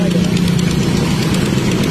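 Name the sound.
Rusi Turbo motorcycle engine running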